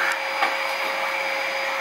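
Loud, steady drone of a household vacuum cleaner running close by, a continuous motor roar with a thin tonal whine and a couple of faint clicks, no voices.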